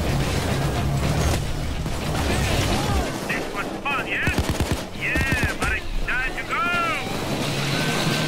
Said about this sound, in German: Immer unter Schuss.